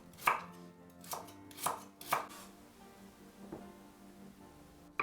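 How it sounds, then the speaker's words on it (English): A knife chops the tough parts of leaves on a cutting board, several sharp, close strikes in an uneven rhythm, three or four clustered near the start and a softer one later, with no voices. "Finely cut the hard parts."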